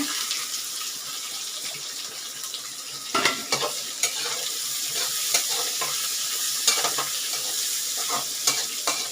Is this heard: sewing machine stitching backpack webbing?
no